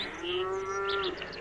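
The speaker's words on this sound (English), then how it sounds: "Oh, the cow's due for milking, too" A cow moos once, a long, steady, mid-pitched low that swells and fades, sounding close and alone as a radio drama sound effect on a farm.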